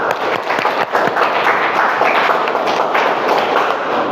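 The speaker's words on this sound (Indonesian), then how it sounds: "Tepuk tangan untuk semuanya." A class at an Indonesian school lesson claps together, brisk, close hand claps with some thumps and taps, fairly loud and continuous for a few seconds.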